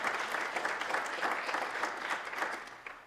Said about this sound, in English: give yourselves a round of applause for being able to get that done